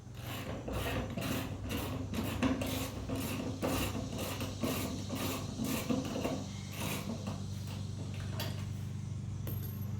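A ratchet works loose the seatbelt bolts inside a 1967 Camaro RS, sounding as rapid, evenly spaced metallic clicks that run for several seconds before easing off near the end, with no talking.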